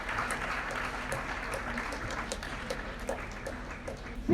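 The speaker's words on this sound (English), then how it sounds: "Please, can we keep clapping till he takes over, please?" Audience applause and ovation welcoming a panel speaker at a business event, steady clapping throughout with a louder burst at the end.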